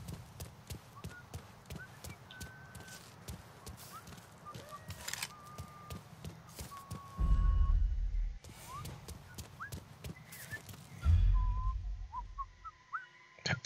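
Whistling in the video game Mafia III, thin melodic tones drifting over steady horse hooves clip-clopping, with two loud low thumps midway.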